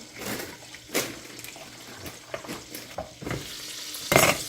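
Food is stirred and sautéed in a silverstone pan for a holiday soul food dinner, with bursts of spoon scraping and clatter over a light, close sizzle.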